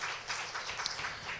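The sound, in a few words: congregation applauding in church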